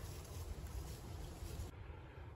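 Wind blowing outdoors in Missouri woods during a winter shed antler hunt, a steady broad rush of gusting air and microphone buffeting, fairly loud and continuous, with no talking.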